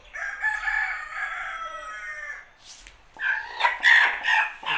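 An Aseel rooster crows nearby in a long, strained call, followed after a brief pause by a second burst of loud crowing.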